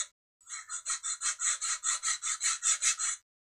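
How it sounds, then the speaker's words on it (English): Quick rhythmic back-and-forth rasping strokes of a sanding stick's smoother side putting a bevel on model aircraft fuselage skin, about a dozen even passes in a steady rhythm, close up with no talking. "I'm using the smoother side of the sanding stick to put the bevel in."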